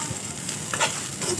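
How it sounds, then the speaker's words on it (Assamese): A spice mix with dal is stirred and fried in a pan for Assamese pumpkin-leaf fritters, giving a continuous close sizzle with a few louder scraping stirs and no voices. "আকৌ এবাৰ ভালদৰে লৰাই লৈছোঁ"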